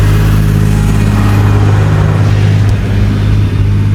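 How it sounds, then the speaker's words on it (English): A tractor engine runs loud and close with a steady low rumble, holding an even drone throughout with no talking. "this tractor is destroying the video"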